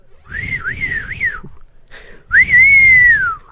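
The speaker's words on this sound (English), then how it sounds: "I'm whistling." An elderly woman whistles a wavering, bouncing tune, pauses briefly, then whistles a longer sustained phrase that slowly falls in pitch, close and fairly loud.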